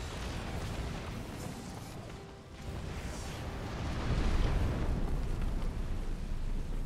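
A StarCraft II co-op match throws out a broad, rumbling explosion that swells louder partway through and holds as a dense roar of game battle noise.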